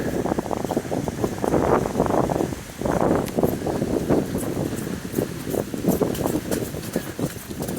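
Storm winds of around 80 mph drive rain through trees on a hiking trail. A loud, continuous rushing roar comes in irregular gusts, with leaves rustling and wind buffeting the microphone up close.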